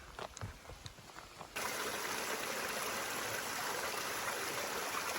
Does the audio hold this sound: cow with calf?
no